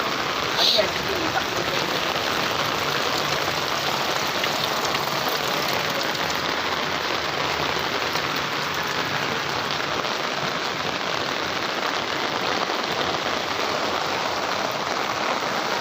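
Heavy rain pours steadily during a flood in a residential area, a dense, even hiss close by, with a voice briefly speaking at the start.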